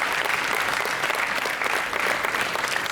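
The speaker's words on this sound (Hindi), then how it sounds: "अगर बात अच्छी लगी तो जोरदार तालियां" Loud, dense audience applause at a college anniversary function, continuous and even from start to finish with no voices on top.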